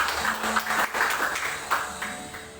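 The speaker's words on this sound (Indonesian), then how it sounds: "kita berikan tepuk tangan yang meriah" A church congregation gives soft, steady applause at a New Year service, heard fairly far off and mixed with the sustained tones of music playing underneath.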